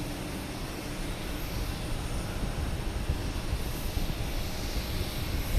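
An Etihad airliner bound for Abu Dhabi passes at Boston Logan Airport, its engines a steady, loud broadband roar that holds through the whole stretch with no voices over it.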